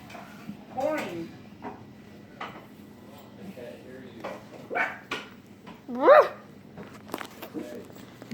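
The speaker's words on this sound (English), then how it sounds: "Guys, meet my dogs." Two pet dogs in a flooded house let out several short barks and a high whimper, loud and close, scattered between bursts of a person talking over heavy pouring rain.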